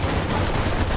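Rapid gunfire in the video game Sven Co-op, a dense, continuous burst of shots throughout one loud second.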